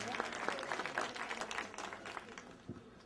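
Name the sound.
audience applause at library opening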